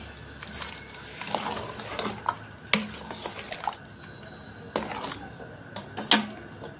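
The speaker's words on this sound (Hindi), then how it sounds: "अब इसमें जो कस्टर्ड बना के रखी थी वो कस्टर्ड डाल देंगे। डालने के बाद इसको अच्छे से मिला लेंगे।" Homemade custard being stirred into a bowl of cut fruit for a sweet dessert, a spoon scraping and tapping against the dish in irregular, moderately close strokes.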